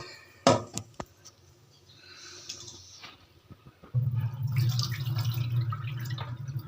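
Soaked rice for chitoi pitha is washed in a vessel: a sharp knock and clatter first, then soft trickling and sloshing, followed by a louder steady rush of water being poured, close by and without talk.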